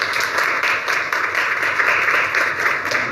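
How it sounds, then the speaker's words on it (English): Seminar audience applauding panelists at a Southeast Asia politics event, a steady wash of many hands clapping at moderate volume throughout, without a break. "I want everyone in the room to give a big applause to all the panelists today"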